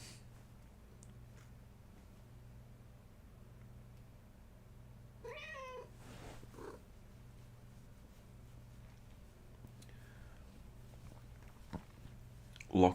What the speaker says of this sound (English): Yeah, the cats.